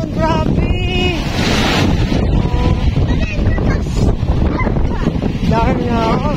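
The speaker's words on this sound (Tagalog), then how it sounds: "Lakas ng alon, grabe." Strong wind buffets the microphone while surf crashes and roars continuously at Ilig-Iligan Beach, Boracay, with a person talking over the noise.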